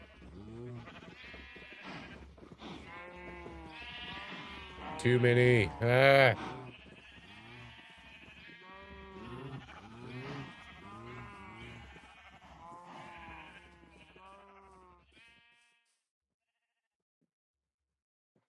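Sheep in the Minecraft video game bleat repeatedly, with a louder cluster of bleats midway, mixed with brief speech before everything fades to silence near the end.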